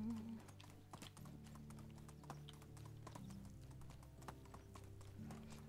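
Horse hooves clip-clop steadily in the medieval game Medieval Dynasty, a quick regular rhythm of close, fairly quiet clops over low droning game sounds, with no talking.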